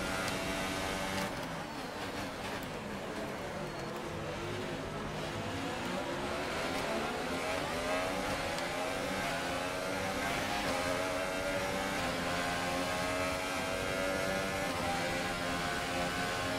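A Formula 1 race car engine in the F1 2018 video game screams continuously at high revs, pitch rising and falling through gear changes and corners, loud and close with no voices.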